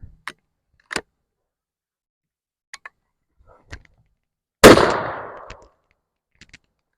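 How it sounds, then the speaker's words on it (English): A shotgun fires a single loud, close blast of buckshot at a lead target, with a decaying boom after it. Small clicks and handling sounds come before and after the shot. "Let's try some buckshot."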